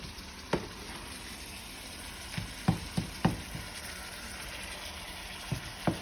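Ground beef hamburger meat sizzles steadily in a pan while a utensil mashes it, producing a few scattered knocks and scrapes over the soft frying hiss.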